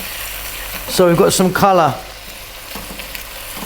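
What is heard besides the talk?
beef frying and being stirred in a pan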